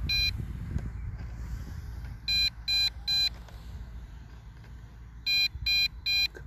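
A JJRC D-80 drone sits in an open field and gives two sets of three sharp electronic beeps, evenly spaced, over steady outdoor wind rumble.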